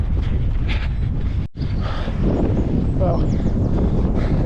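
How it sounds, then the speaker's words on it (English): Heavy wind buffeting a microphone outdoors during a marathon training run, a loud continuous roaring rumble with a brief dip, while someone speaks over it. "Wind seems to be picking up as well."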